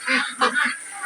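French Pekin ducks at a duck farm give a few honking, nasal calls in quick succession, close and fairly loud, with no talk.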